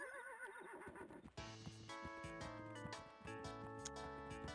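A horse neighs in the farming video game Fields of Mistria, a wavering whinny in the first second or so, then cheerful game music with plucked, chiming notes continues steadily over it.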